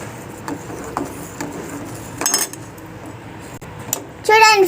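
A spoon stirs custard powder into milk in a metal pot, giving soft scraping and occasional clinks of utensil on metal, with a brief sharper clatter near the end.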